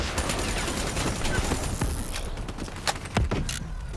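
Gunfire in Call of Duty Black Ops III: dense bursts of automatic fire rattle through the first two seconds, then a few separate sharp shots ring out against quieter background noise.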